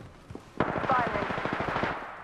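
Rapid automatic gunfire in the video game Apex Legends rattles out as a fast burst of repeated shots, fairly quiet in the mix over a brief moment.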